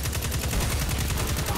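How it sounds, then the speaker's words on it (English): Rapid, evenly spaced gunfire from a solar auto rifle in Destiny 2, a loud continuous stream of punchy shots with no pauses. "this auto rifle sounds pretty awesome"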